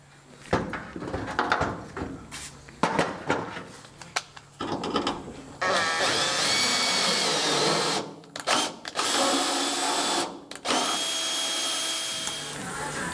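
A power drill tapping threads for cap screws in a custom floor build whirs in long sustained runs after a stretch of clicks and handling knocks, loud and close.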